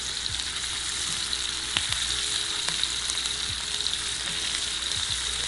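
Lobster tail and shrimp fry with garlic in a hot pan, giving a steady close sizzle with crackling pops and a few brief clinks of a utensil throughout.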